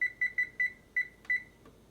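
A kitchen timer beeps after 30 minutes of baking a broccoli cheddar soufflé, six clear, evenly pitched electronic beeps in an uneven rhythm, close and alone.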